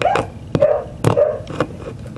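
A dog barks in a busy grocery store, about four short sharp barks spaced roughly half a second apart over a murmur of shoppers.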